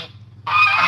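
A goose lets out one loud, close honk that starts abruptly after a brief quieter call, in a farmyard full of chickens.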